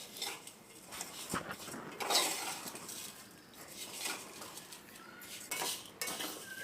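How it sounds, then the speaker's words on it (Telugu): A cup of vermicelli roasting in ghee in a cooking pot, stirred with a metal spoon that scrapes and clinks against the pan in steady, irregular strokes, close by with no talking. "ఆ నెయ్యిలో 1 కప్పు సేమియాని వేసుకుని ఎర్రగా అయ్యేంత వరకు వేయించుకోవాలి"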